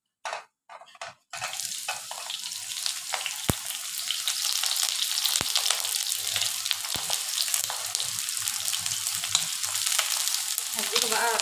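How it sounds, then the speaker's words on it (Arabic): Eggplant sizzles in a little oil in a hot pan, a steady crackling fry after a few brief clatters at the start, with occasional sharp clicks. "معايا بقى هنا الطاسه سخنت، هنزل بقى عليها ايه بشويه زيت، وهنزل بالباذنجان بتاعي"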